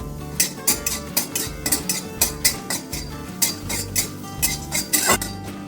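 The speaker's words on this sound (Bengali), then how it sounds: "এবার ডালের জন্য শুকনো কড়াইতে কয়েকটা এলাচ আর কয়েকটুকু দারচিনি ভেজে নেব" Cardamom pods and cinnamon pieces dry-roast in a wok with rhythmic metal scraping and clinks from a spatula, about a dozen strokes, close and fairly loud, with a faint sizzle underneath.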